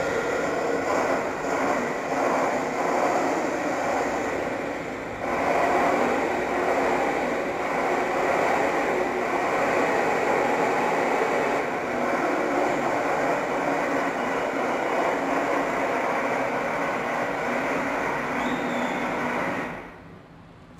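A bus engine rumbles steadily and loudly for about twenty seconds, an unbroken drone that drops off sharply at the end, with no speech.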